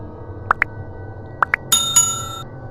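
A notification bell effect rings out as two pairs of bright, clear dings, followed by a short shimmering swoosh. It is crisp and close, with no voices.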